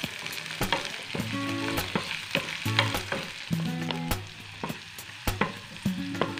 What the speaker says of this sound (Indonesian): ini kita tumis bawang bombaynya sampai layu juga ya